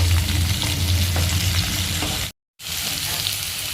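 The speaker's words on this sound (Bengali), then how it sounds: "এবার সব কটা একসাথে ভেজে নেবে।" Potato, pumpkin and bottle gourd greens fry together in a pan with a loud, continuous sizzle and faint stirring scrapes. It cuts to silence for a moment, then the frying resumes.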